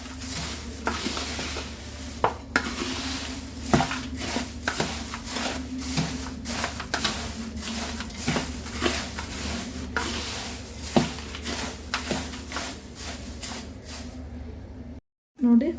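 Crispy avalakki (poha) is stirred in a pan with oil and seasoning, a steady scraping and rustling with repeated sharp clinks of the spoon against the pan, mid-distance and continuous, before stopping abruptly near the end.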